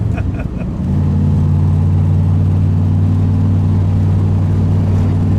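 A 1967 Chevrolet Corvette with a 427 V8 and side pipes rumbles close by, a short throttle blip then settling into a loud, steady deep idle burble.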